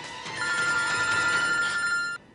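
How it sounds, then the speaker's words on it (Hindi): A telephone rings in a scene from a Hindi television drama, one steady electronic bell trill lasting about two seconds before it cuts off abruptly. The ring is loud and clear with no voices over it. "समर तुम फोन तो उठाओ वरना उनका शक और बढ़ जाएगा"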